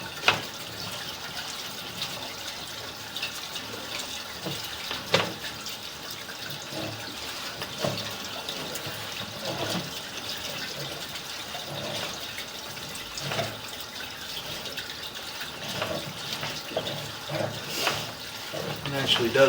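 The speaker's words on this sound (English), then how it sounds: "We should have water going in pretty much right away." Water rushing through a sewer pipe at a house during a line cleaning, a continuous hollow gurgling wash with a few louder surges and a person speaking faintly over it.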